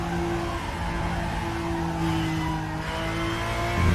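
Race car engine in the RaceRoom racing game at Road America, a steady loud droning roar holding a near-constant pitch throughout, with a slight surge near the end.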